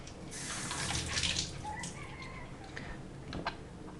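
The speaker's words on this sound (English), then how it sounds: "I'm going to go over to my sink and get it wet." Water runs from a sink tap to wet a piece of lapis stone, a close, steady hiss and splash that swells early and then settles, with faint background chirps.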